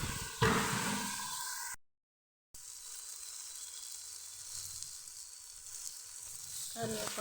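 Chicken sizzles and fries in a pan with only a little oil, a steady crackling hiss broken by a brief silent gap, with scraping stirring sounds near the start and end.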